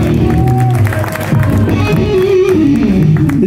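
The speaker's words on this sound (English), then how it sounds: "Give him a round of applause" A rock concert audience at a Las Vegas club applauds and cheers in a loud, continuous wash, with scattered shouts. Amplified music and a voice sit underneath.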